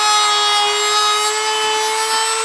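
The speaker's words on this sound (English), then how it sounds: "we're going to have to drill a hole through the side of the trailer to vent the washer dryer tube" Power tool cuts through the side wall of an RV trailer to make a vent hole for a washer dryer, a loud steady high-pitched whine with grinding rasp, continuous throughout.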